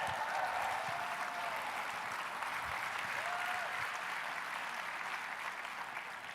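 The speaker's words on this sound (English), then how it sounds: "Give the kings of the room a round of applause" Audience applause during a keynote speech, a sustained wash of many hands clapping in a large room, heard from a distance and fairly soft, holding steady for several seconds before tapering slightly.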